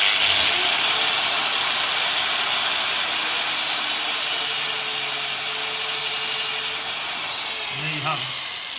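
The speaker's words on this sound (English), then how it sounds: "We'll just cut through it quickly in the middle." An angle grinder cuts through a braided AN3 brake hose, giving a loud, sustained high whine that holds steady for several seconds and then changes briefly near the end.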